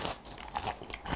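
Someone bites into crispy fried chicken from 60 Gye Chicken with an almond-flour crumble coating, making a close, loud, brittle crunch followed by a few quick crackles of chewing.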